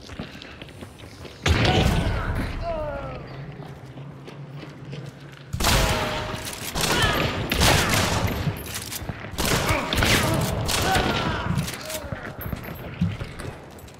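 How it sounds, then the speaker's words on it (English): Gunfire in the video game Hunt: Showdown comes in loud bursts and rapid volleys with heavy thuds, under a player talking. "There's a guy gonna shoot me now."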